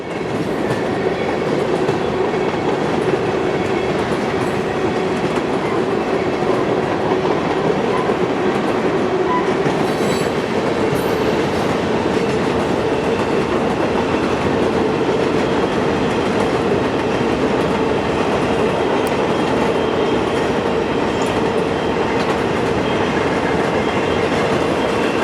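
Bud R32 stainless steel subway cars, built 1964–1965 for the New York City subway, rumble past with a steady loud roar of wheels and rail noise throughout, no voices heard.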